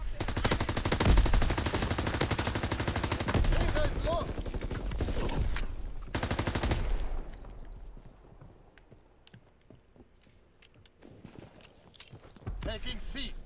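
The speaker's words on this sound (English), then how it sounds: "Firing primary weapon" Bursts of automatic gunfire in a Canada at War shooter game, loud and dense through the first seven seconds, then fading to quieter scattered shots with faint voice chatter, before another loud burst near the end.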